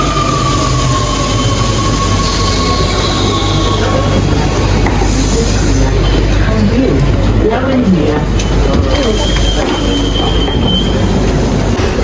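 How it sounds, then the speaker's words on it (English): An underground metro train in Rome running toward Termini station, with a loud continuous rumble, rattling carriages and thin wheel squeals rising and fading over about twelve seconds, alongside voices in the car. "That's the underground train kind of thing, to get to the first stop, which is Rome Termini."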